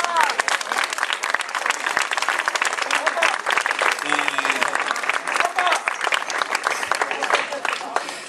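A concert audience gives a dense, sustained round of applause, many hands clapping at once in a close, even roar that fades slightly at the end.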